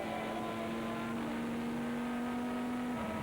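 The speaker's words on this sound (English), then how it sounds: "the Ferrari's on the move" A Ferrari GT race car in a 2002 FIA GT race holds a steady engine drone at constant pitch, with broad track and wind noise around it and a slight dip near the end; no one talks.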